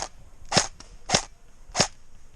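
Three sharp airsoft gun shots during an outdoor airsoft game, evenly spaced and crisp, snapping close by over a low ambient background with no talk.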